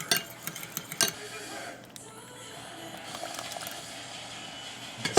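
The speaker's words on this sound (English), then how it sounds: "I'm gonna add a cup of buttermilk and give that a mix" A fork stirs buttermilk into scrambled egg in a bowl, giving quiet scraping and sharp clinks against the dish, with a few louder taps at the start and end and a softer mixing stretch between.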